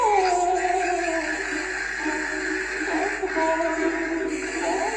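A dog whimpers and yips in a run of high, wavering cries over a constant background hum, with steady sound and no clear pause across the stretch.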